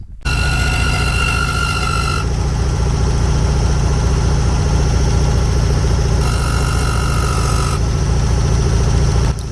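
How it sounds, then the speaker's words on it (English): Air-cooled VW engine running with its cooling fan rubbing the misaligned shroud, a loud, close, steady idle with a rough vibrating rumble and a high scraping whine that drops out and returns. "He didn't have the fan shroud lined back up. The fan was rubbing."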